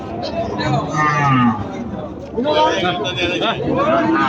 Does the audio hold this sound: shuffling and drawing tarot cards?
no